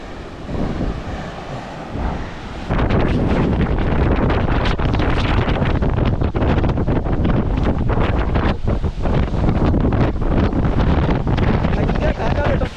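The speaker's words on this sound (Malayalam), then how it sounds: "അങ്ങോട്ട് പോകുന്നില്ല അത്ര ഭയങ്കര കാറ്റ്" Strong wind roars and buffets the microphone, starting suddenly after a quieter moment and staying loud and gusty throughout.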